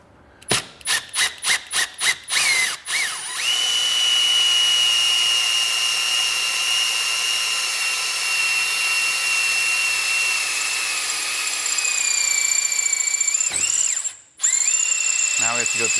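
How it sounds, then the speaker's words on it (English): A power drill boring a hole through a large countertop, starting with several short bursts, then a long steady whining run with a brief pause near the end before restarting. "Drilling a hole in my giant countertop."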